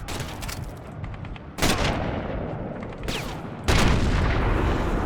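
Sniper rifle shots ring out in the video game Sniper Elite, with several loud, booming reports spaced a second or two apart. Each shot trails off into a long, rumbling echo.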